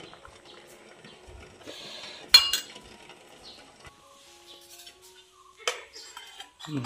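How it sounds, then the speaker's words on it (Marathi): Tea being strained into cups in a home kitchen: faint pouring and trickling, sharp clinks of a strainer and cups against metal and ceramic, with a few scattered taps and a soft scrape near the end. "आता चहा गाळून देते"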